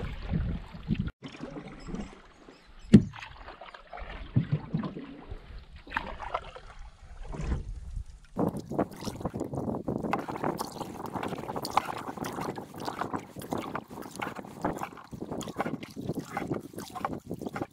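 Canoe paddled across a wide lake in Maine with the wind behind it, steady splashing paddle strokes and water wash under gusting wind buffeting the microphone, close and continuous with no talking.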